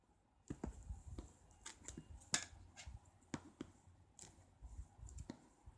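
Scissors cut through packing tape on the box of a Honor View 10 phone, giving scattered sharp snips and clicks up close with scraping in between and no talk.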